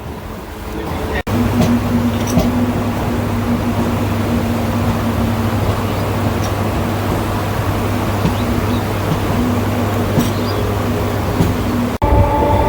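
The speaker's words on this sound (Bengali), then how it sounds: "এবার আমাদের ট্রেন আস্তে আস্তে উপরের দিকে উঠছে" A Kolkata Circular Rail local train between Sealdah and BBD Bag rumbles along in a steady, loud roar heard from inside a carriage, with a low drone and brief sharp clanks near the start and end.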